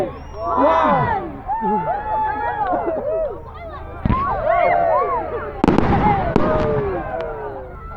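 A bonfire night fireworks display at Raunds Town sends out a dense run of loud whistling and crackling bursts with a few sharp bangs. The crowd murmurs and voices talk underneath.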